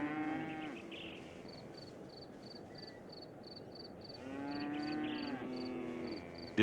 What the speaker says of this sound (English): A group of curious cows go for a closer look.